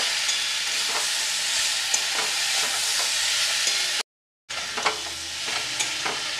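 Prawn and spinach masala with a little ginger paste stir-fried in a pan, a loud continuous sizzle with scraping stirs, one brief silent gap midway, no voices.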